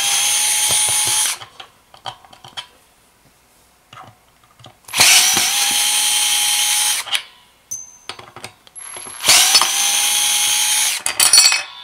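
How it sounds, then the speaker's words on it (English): An IKEA drill driver spins out the neck screws of a 1997 Squier Affinity Stratocaster, three loud, steady whirring bursts of a few seconds each, separated by quiet pauses with small clicks and handling noises. "Next I'm going to remove the neck"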